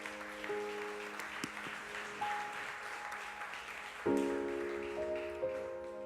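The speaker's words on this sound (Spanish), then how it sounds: "Aplauda su nombre en esta noche." Quiet congregation applause during an evening church service, soft patter of clapping beneath sustained instrumental tones that swell partway through.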